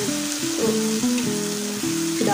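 Spices, turmeric leaves and cloves sautéing in a hot pan for yellow-spiced beef, a loud steady sizzle with tonal scraping and stirring over it.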